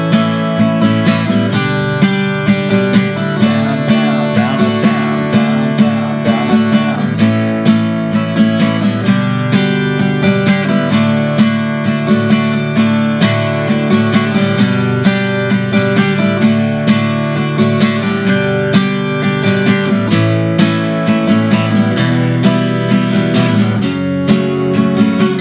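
Acoustic guitar strums the verse of a song in steady quarter and eighth notes, loud and close, with even rhythmic strokes through a chord progression and no talking.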